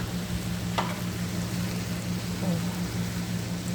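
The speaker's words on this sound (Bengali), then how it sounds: "আস্তে আস্তে কষাবো এটাকে।" Spice masala fries in a pan over a lowered flame with a soft, continuous sizzle and a low steady hum beneath it. There are a couple of faint scrapes, and no one speaks.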